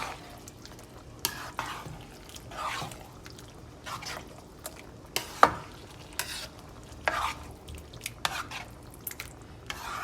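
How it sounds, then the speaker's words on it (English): Sauce stirred in a container makes soft, intermittent wet scraping and clicking strokes at close range, with brief sharper knocks against the sides and a quiet room behind. "And we're gonna mix this in."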